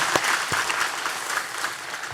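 Church congregation applauding in a bright, continuous burst of clapping that fills the whole short stretch, with no talk over it.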